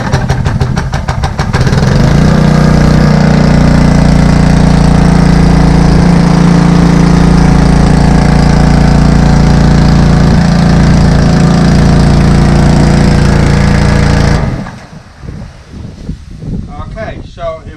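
A Simpson 3200 PSI gas pressure washer engine catches on a recoil pull and runs loud and close with a steady hum for about twelve seconds, then shuts off, leaving quieter background sound.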